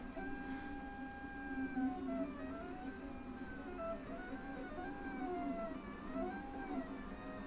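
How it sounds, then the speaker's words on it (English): A 3D printer starts its first print, nozzle laying a purge skirt on a bed heated to 85 degrees, its stepper motors singing in rising and falling whirring tones over a steady low fan hum, fairly quiet and continuous. "Right, it's off, so it should now be printing."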